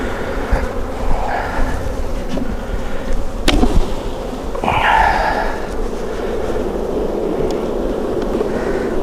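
A low, continuous buzz of many honeybees from an aggressive colony hums close by throughout during a hive box swap, with a sharp tap and some handling noises partway through.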